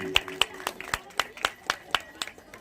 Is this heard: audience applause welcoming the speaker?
yes